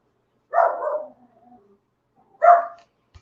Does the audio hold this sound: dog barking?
yes